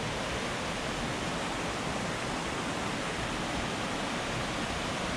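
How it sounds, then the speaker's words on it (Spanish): A river rushes below a coastal trail near Muros, a dense, continuous roar of flowing water that stays even and unbroken throughout, with nobody speaking. "Ahí tenéis el río."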